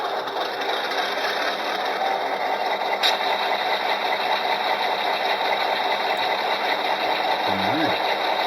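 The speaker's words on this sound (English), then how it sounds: "I think we have an engine starting." A diesel engine start plays from the sound decoder of an HO scale Athearn F unit model locomotive, settling into a steady, even drone throughout, with talking over it.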